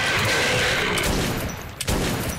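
Gunfire in the video game Metro 2033: a rapid burst of loud, close shots rattling for about two seconds, then a brief pause and another shot.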